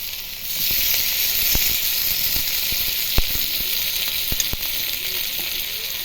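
Chopped onion sizzles steadily in hot oil for an okra do pyaza, a dense, even frying hiss with a few sharp clicks and scrapes from stirring.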